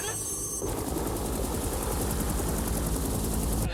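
Helicopter gunships fly overhead in a military attack, a steady loud rotor thudding and engine roar over a low rumble, with dense mechanical chatter throughout.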